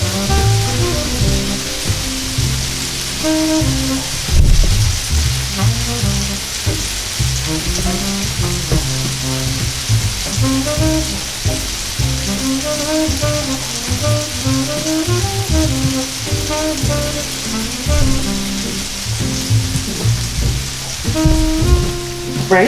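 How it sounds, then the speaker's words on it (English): A first batch of camping food sizzles on a grill, a steady dense crackle and spatter that runs on without a break at close range. "right now I got the first batch on the grill cooking."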